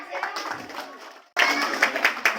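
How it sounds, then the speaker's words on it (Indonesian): An audience at a Hadith Arba'in recitation competition for MTs students at Pondok Pesantren Al-Furqan, Bandung, claps for a performer, with a softer stretch of clapping followed by a sudden louder burst of dense applause. "Tepuk tangan sekali lagi untuk Nina Udaya"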